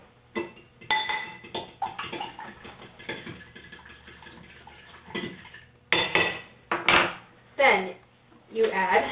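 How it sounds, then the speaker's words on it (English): Two eggs whisked in a bowl, heard as bursts of quick metallic clinking and scraping with short pauses between them, fairly close and loud. "you take your 2 eggs, and you whisk them"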